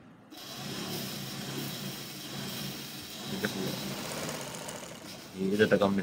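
A sewing machine stitching a kurti sleeve gives a low, steady mechanical hum that runs continuously, fairly quiet, with a louder burst of clatter near the end; a voice is heard faintly in the background.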